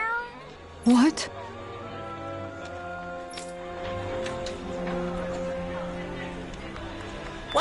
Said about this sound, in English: Why did that damn cat run away?